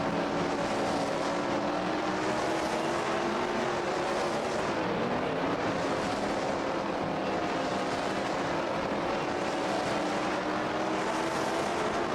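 Sprint car engines in the World of Outlaws 2002 video game roar continuously, a dense steady drone with slight rises and falls in pitch, and no voices.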